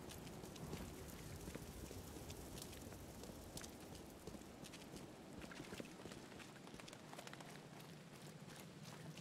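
Rain falls steadily in The Sinking City video game, a faint continuous hiss and patter of drops with scattered soft taps, uniform throughout and without talk.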